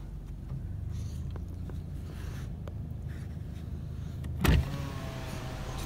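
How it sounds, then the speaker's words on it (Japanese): A Subaru BRZ power window whirs down inside the parked car, a short motor hum riding over a low idle rumble, followed by a brief loud thump near the end. "ちょっと窓を開けてみたりして。"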